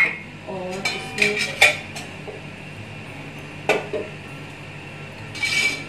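A kadai wok being set down and handled on a stove, a few sharp metallic clanks and clinks in short bursts, close up, separated by quieter gaps of low background hum.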